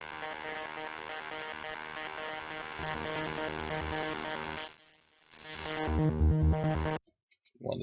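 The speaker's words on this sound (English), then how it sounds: "Add in the pulse wave and it sounds like this." Sylenth1 acid synth with a saw wave layered with a pulse wave, a thick buzzing sequenced line that drops out briefly, returns louder with punchy low hits, then stops abruptly.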